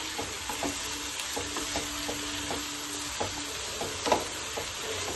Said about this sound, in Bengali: এবার একসাথে আবার একটু নুন আর হলুদ দিয়ে কষিয়ে নেব